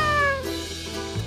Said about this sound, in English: A meowing calf?